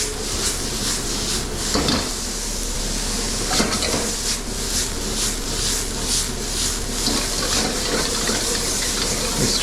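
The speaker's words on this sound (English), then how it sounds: "Stir fry this briefly, maybe 30 seconds." Carrots and onions stir-frying in a hot wok with a little oil, giving a steady loud sizzling hiss broken by repeated scraping strokes of the spatula against the metal.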